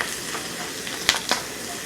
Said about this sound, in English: Let's stir the seasonings on in.